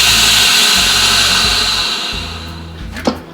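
A VacMaster chamber vacuum sealer pulling air from a bag of venison breakfast sausage, a loud steady motor whir and hiss that slowly fades, ending with a short thump.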